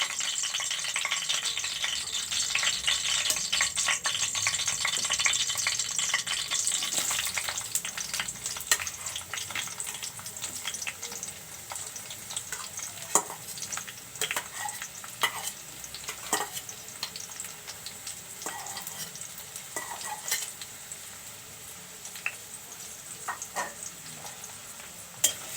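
Chicken skin fries with green chillies and onion, a long steady sizzle that slowly quiets, with frequent spatula clinks and scrapes against the pan.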